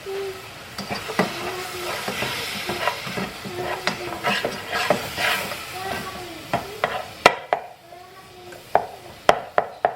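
Ground beef seasoned with seasoned salt, garlic salt and pepper browns in a pan, with a steady close sizzle and repeated scraping, clacking strokes of a utensil stirring and breaking up the meat.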